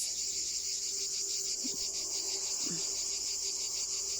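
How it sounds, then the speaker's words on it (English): A steady, high, pulsing drone of cicadas fills the air continuously in the Tuscan countryside in August, with a faint low hum and a couple of brief distant chirps beneath. "the cicadas"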